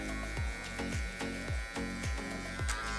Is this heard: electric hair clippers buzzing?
yes